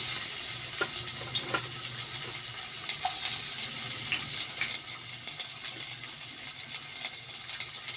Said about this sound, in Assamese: এতিয়া মই 1 মিনিটমান সময় এইদৰে পিঁয়াজ নহৰু আদা 1 মিনিটমান সময় মই ভাজি ল'ম